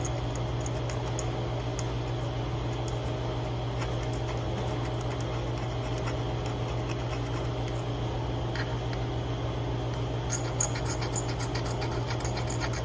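A tool or abrasive roughens a surface inside a 27-inch iMac so JB Weld will grip, making a continuous, even grating and rasping noise with faint ticks throughout, steady and close with no speech.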